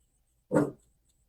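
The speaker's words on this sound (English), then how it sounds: "She's periodically barking." Hazel the dog gives a single short, sharp bark indoors, close and alone in an otherwise quiet room.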